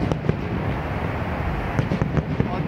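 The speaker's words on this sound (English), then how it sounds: "you can see and hear the fireworks" Distant fireworks from Disneyland pop and thud irregularly over a steady wash of background noise, heard from an Anaheim RV park, the bursts muffled and far off.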